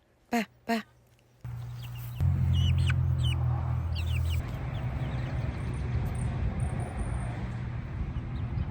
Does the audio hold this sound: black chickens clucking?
yes